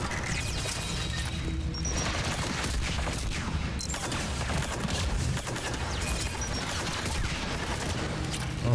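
Sustained weapon fire in Mass Effect 3 combat, a dense continuous barrage of shots and crashes filling the whole stretch at steady loudness.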